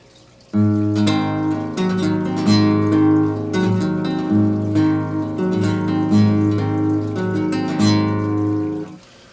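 A plucked guitar or banjo playing a rolling three-finger picking pattern with pinched notes and brief open beats, steady and close.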